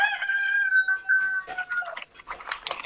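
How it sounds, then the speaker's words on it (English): A rooster crows in one long, drawn-out, tonal call lasting about a second and a half. Scattered clatter and background noise follow it. "The rooster even agrees."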